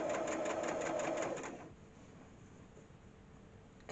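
A sewing machine stitches around a five-point star appliqué, running steadily and fairly loud for about a second and a half before stopping, leaving only quiet room tone.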